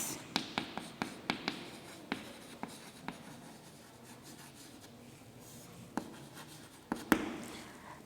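Chalk or marker writing on a classroom board, a quick series of sharp taps and scratchy strokes with short pauses, up close, listing transition-metal element names.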